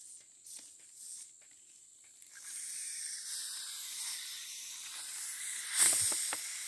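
Gas fizzes from fermenting blended papaya: a soft, steady hiss builds and holds, with a brief sharper burst of crackle near the end; faint and close, no voices.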